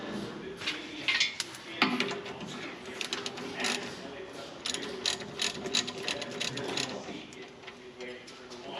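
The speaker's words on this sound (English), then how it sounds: "Here's a 5/8 ratchet." Rapid clicking of a 5/8 ratchet wrench turning a nut, in repeated bursts of metallic ticks with a few sharper clanks, moderately close and fairly quiet amid a workshop setting.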